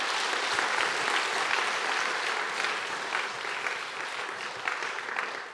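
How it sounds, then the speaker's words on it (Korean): Sustained applause fills the hall for a church praise team at a revival meeting marking a congregation's 120th anniversary, steady, dense clapping from a large crowd throughout, with no talk over it. "찬양단 박수 한번 쳐줘요."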